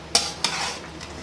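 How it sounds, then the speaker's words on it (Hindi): Vegetables for chicken spaghetti sizzle in a pan while a utensil stirs them, two quick scraping strokes over a soft, steady frying hiss, close by. "तमाम सब्जियां मैंने इसमें शामिल कर दी। अब हम इसे थोड़ा सा पकने देंगे।"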